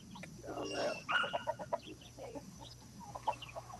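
Chickens cluck on a homestead in short, irregular bursts at moderate distance, with a low steady hum and faint speech-like sounds in the background.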